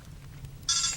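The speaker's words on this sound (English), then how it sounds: "Sorry, that's my phone." A phone starts ringing in the last third of a short stretch of quiet room tone, its bright electronic tone loud and steady, with no talking.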